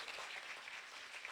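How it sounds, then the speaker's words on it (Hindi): A church congregation at an Urdu-Hindi sermon claps together in steady, continuous applause, faint and somewhat distant. "जोरदार ताली बजाएंगे इसके जलाल के लिए।"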